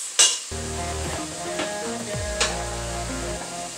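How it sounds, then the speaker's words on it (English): Sausage dropped into a pan of succotash mix, with a steady low sizzle and a few scraping stirs under a broad cooking hiss, close and moderate in level. "we're going to go ahead and add the sausage in with this mix"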